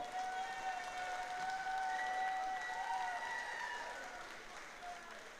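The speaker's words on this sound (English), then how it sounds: "A round of applause for these fighters." A crowd applauds Muay Thai fighters after a bout, the faint, distant clapping sitting under a voice and a sustained tone, fading slightly toward the end.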